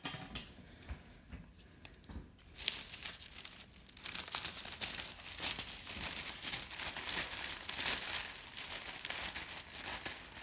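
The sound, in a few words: cutting foil rescue blanket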